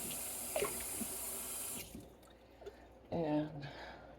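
Tap water runs steadily into a kitchen sink while dishes are washed, then cuts off, leaving faint drips and clinks before a short splash and a brief voice.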